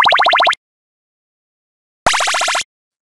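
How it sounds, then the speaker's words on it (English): Two short, bright chiptune power-up effects for a browser video game, each a quick burst of rapidly stepping tones, separated by a long silence. "I'd like to have a power-up sound for when you get the super power-up"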